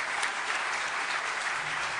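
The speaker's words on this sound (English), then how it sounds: "applause for a great talk." Audience applause at an academic emergency medicine conference plenary session, steady dense clapping from a large seated crowd, loud and continuous for the whole stretch with no talk over it.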